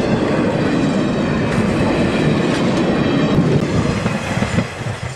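MSR 780 diesel locomotive in red, white and blue passing at Elk Valley on a special run, a loud steady roar of engine and rolling wheels with rhythmic rail clatter, sustained and close throughout.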